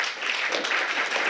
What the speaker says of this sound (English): So let's give David and JP Morgan team a round of applause.